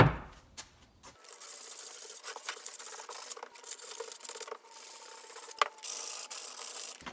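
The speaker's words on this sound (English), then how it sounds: "I'm now going to take bit of time just to sand it up." Hand sanding of a wooden cutting board made from firewood, working up to about 400 grit and rounding over the sides, with steady close rubbing and rasping strokes in a repeating rhythm after a brief quiet start.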